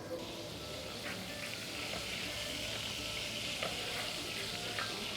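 Oil heats in a pan with a steady, soft, continuous sizzle and faint crackles, heard close and quietly with no one talking.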